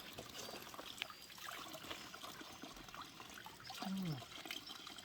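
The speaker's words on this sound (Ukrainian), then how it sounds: "Це джерело з чистою водою." Water trickles steadily from a spring, a soft continuous babble with faint background noise throughout.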